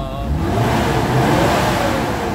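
A Mitsubishi Adventure engine revs steadily and loudly up close, a continuous mid-pitched roar held at raised rpm throughout the short stretch, with no voices.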